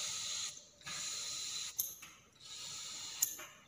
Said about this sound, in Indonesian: lubangnya ini kita semprot.